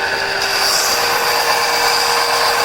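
A Luxter disc and belt sander grinds against wood in a steady, loud, continuous abrasive rasp with a constant motor whine, close by and without talk.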